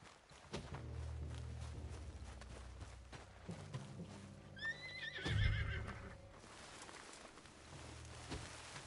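A horse whinnies in Red Dead Redemption 2, a shrill, wavering call over a steady low rumble, with a heavy thud and hoof-like clatter around it.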